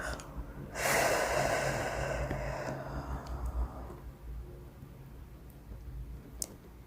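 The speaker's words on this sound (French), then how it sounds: "J'inspire et j'expire." A slow, deep breath in and out during a guided relaxation session, a long soft airy inhale and exhale that fades gradually into quiet room tone, with no talking.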